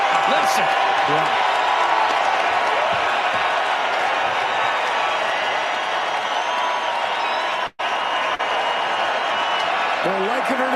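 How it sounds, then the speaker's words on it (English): A packed Edmonton hockey arena roars in a continuous, loud wash of crowd cheering and noise, with a momentary dropout partway through before the din resumes. "Listen to this crowd."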